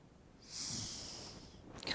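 A single slow, soft exhale of breath during a yoga session, a faint airy whoosh lasting about a second in an otherwise quiet room, alone without talk.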